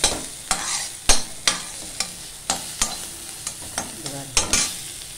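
Okra and onion sizzle in a pan while a spatula stirs them, sharp scraping strokes landing about once or twice a second over a steady close frying hiss, with no voices.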